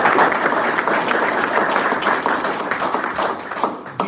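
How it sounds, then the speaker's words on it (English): An audience claps and applauds during a live political event, a dense, continuous burst of clapping that holds steady and tapers slightly at the end. "I want a round of applause for Yuri for coming"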